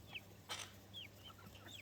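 Young chickens, their chirps giving way to grown-up voices, cluck and peep in short scattered calls over a steady low hum, fairly close but soft.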